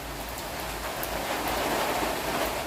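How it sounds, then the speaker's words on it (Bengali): Rain falling in the distance and approaching, a faint, even hiss of rainfall that grows slightly louder over a few seconds, with no voices. "আমার দূরের থেকে বৃষ্টি হচ্ছে, ওই যে শো শো আওয়াজ হইতেছে, এখনই চলে আসবে বৃষ্টি"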